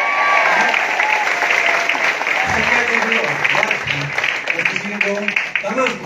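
An audience claps steadily throughout a consumerism orientation seminar, the applause forming a continuous bed of noise while a voice talks over it.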